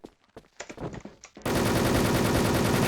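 Gunfire in the online shooter game Wolfteam: a few scattered shots and clicks, then a sudden loud, sustained automatic burst of rapid fire.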